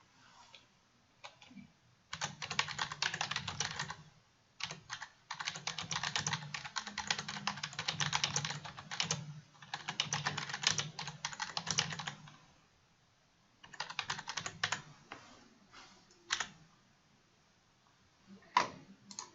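Rapid typing on a computer keyboard comes in several bursts of quick, close clicking separated by short pauses, fading to a few isolated taps near the end, with no talk.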